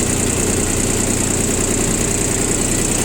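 A Japanese three-cylinder diesel mini tractor engine runs in a loud, steady drone with an even low rumble, heard alone.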